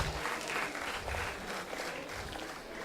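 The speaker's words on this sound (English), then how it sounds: "let's give them a big round of applause, guys" Audience applause at an HR session stage event, a dense sustained clapping from a crowd filling the whole stretch at steady loudness.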